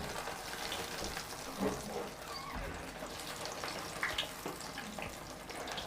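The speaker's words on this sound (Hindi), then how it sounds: "ऑयल गरम कर लिया, अब डोनट्स को फ्राई करेंगे।" Chicken donuts deep frying in hot oil over medium heat, a steady close crackle and sizzle that holds for several seconds with no voices.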